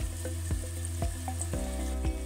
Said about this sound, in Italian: Ho messo sul fuoco una pentola con un filo d'olio e uno spicchio d'aglio tritato. Lo faccio soffriggere un paio di minuti a fiamma bassa